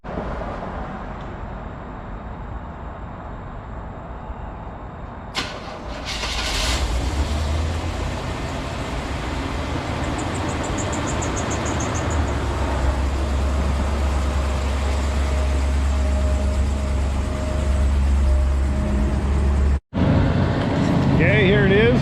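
A 1987 GMC C20 truck with a fuel-injected 454 engine starts and idles with a deep, steady rumble as it is pulled out, close by, with a short sharp dropout near the end.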